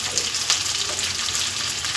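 Onions and red and yellow bell peppers sauté in a pan, giving a steady, close frying sizzle with light crackles, and no one speaks.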